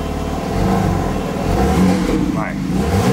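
A Lamborghini engine revs loudly up close, its deep exhaust rumble rising and falling, with people talking over it.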